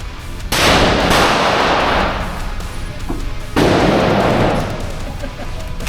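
A Tikka T3x rifle fires two loud, close shots about three seconds apart, each a sharp blast followed by a long, booming outdoor echo that slowly fades.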